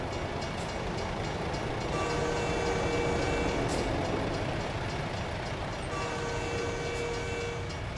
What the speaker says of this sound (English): Train somewhere.